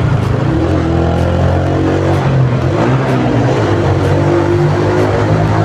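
A vehicle with an aftermarket exhaust revs hard inside a tunnel, a loud, booming engine roar that rises and falls with echo, close and continuous.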